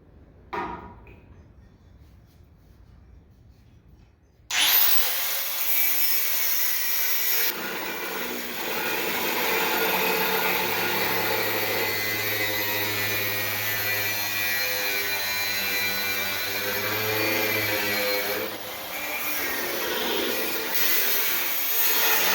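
A power cutting tool bites into the bolts on a SAE300 welder, whining loudly and steadily for long stretches after a quiet start, with brief changes in pitch as it works.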